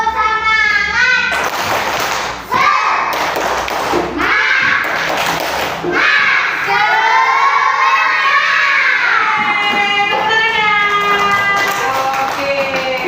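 A classroom of students performs a spirited rhythmic clapping chant, loud sharp claps in patterned bursts mixed with children's voices shouting and chanting along, close and energetic throughout.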